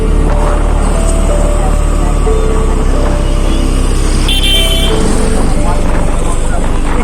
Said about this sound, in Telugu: ఇక్కడ నుంచి ట్రాఫిక్ జామ్ అనేది స్టార్ట్ అయిపోయింది.